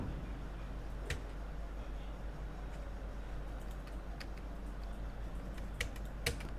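Keys tapped on a computer keyboard while entering a payment voucher in Tally Prime, a few sharp isolated clicks standing out over steady low background hum, no talk.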